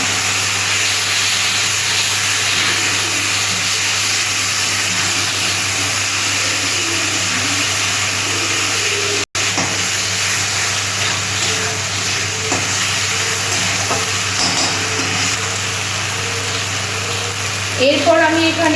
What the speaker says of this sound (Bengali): এবার আমি এখানে আদা রসুনের পেস্টটা দিয়ে দিলাম।